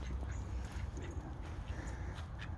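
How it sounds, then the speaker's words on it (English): Pet duck quacking outdoors, a run of close, nasal honking quacks over a steady background rumble. "Got my duck."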